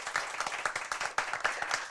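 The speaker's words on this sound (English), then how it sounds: "A round of applause for our judges." Audience applause at a debate and impromptu speaking competition semifinal, a brief burst of dense, moderately loud clapping from a crowd.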